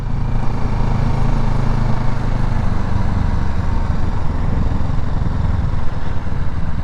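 Kawasaki Z650RS motorcycle ridden over road bumps, a steady mid-pitched engine drone with constant wind and road rumble, loud and close throughout with no clear speech.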